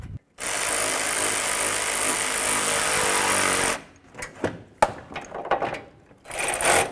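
Ratchet snugging up the radiator mounting bolts on a 2002-08 Dodge Ram: a long, loud, rapid clicking run close by, then a few shorter bursts and single clicks after a brief pause, with no talk.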